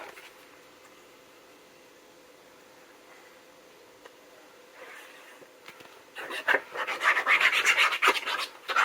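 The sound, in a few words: burnishing folded paper for a scrapbook album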